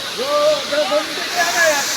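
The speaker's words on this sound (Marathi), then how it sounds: "आता आपण धबधबाची एकदम जवळ आलोय जाऊया धबधबाकडे" A waterfall at the Marleshwar temple in the Konkan hills during summer, a steady broad rushing hiss close by, with a person talking over it.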